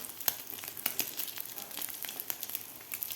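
An egg Maggi paratha fries in a pan, giving a steady, moderately faint sizzle with light crackles and small pops throughout, and no voices.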